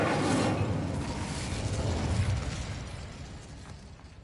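A fire spell is cast in a video game: a loud whooshing, crackling burst of flame starts at once and roars broadly, then slowly fades over a few seconds, with no voices.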